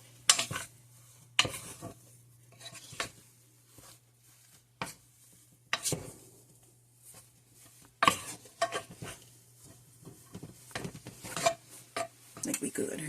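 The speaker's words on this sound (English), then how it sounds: "And she said to mix until you start to notice the flour is browning just a bit" Stiff choux-style cruller dough being stirred in a pot on the stove: irregular scraping and thudding strokes of a spoon against the pot, in uneven bursts with short pauses, over a low steady hum.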